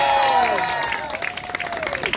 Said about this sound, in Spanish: Se viene entonces, aplauso para los bailarines.